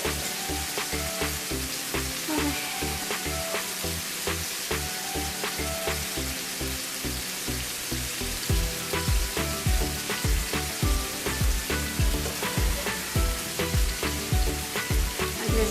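Chicken pieces sizzle loudly in a hot pan for Chicken Tikka Masala, a dense continuous crackle with steady popping bursts, close up and with no talking over it.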